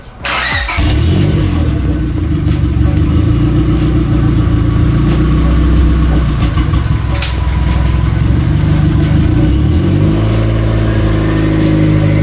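A 1997 Honda Civic EK hatchback starts up and runs close by, loud and steady, with a few revs partway through and a change in engine tone near the end, without any talking.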